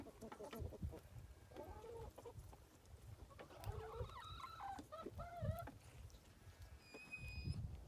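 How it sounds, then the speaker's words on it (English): Chickens cluck and call near a farm coop, a mix of short clucks and rising squawking notes at moderate distance, with faint rustling in the background and no voices. "the chickens come out when the sun comes out and they peck and they scratch"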